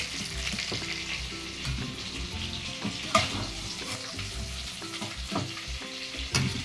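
Shrimp frying in hot oil for a jackfruit-shrimp curry, a steady close sizzle and crackle with occasional sharper pops and stirring scrapes, no voices.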